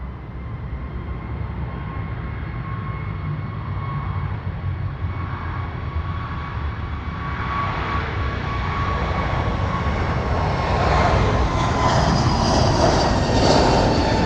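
A passenger jet bound for Rome powers up for takeoff at London City Airport, a broad steady engine roar that swells gradually louder over about fourteen seconds, with a rising whine on top toward the end.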